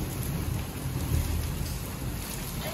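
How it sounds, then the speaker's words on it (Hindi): Heavy rain pours steadily in a village in Pakistan, a dense hiss throughout, with low thunder rumbling faintly beneath it and no voices. "बारिश तेज होगी भाई साहब, बड़ी तेज होगी"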